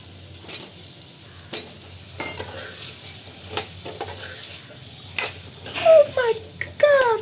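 Potato goes into a pan of frying masala and gets stirred, with a soft steady sizzle and scraping stirs; a voice chirps near the end over the kitchen noise.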